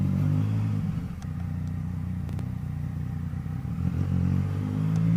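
A motorcycle with a worn, gutted seat is ridden steadily along a road, its engine giving a continuous low rumble with slight rises in revs and some road clatter, no talking.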